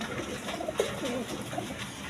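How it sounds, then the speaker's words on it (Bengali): Rasgolla pigeons, big-sized birds at a pigeon sale, give soft low coos, a few brief murmuring calls close by over a faint steady background. "আরেক পেয়ার রাসগোল্লা কবুতর আছে একদম বিগ সাইজের দেখার মতো কবুতর"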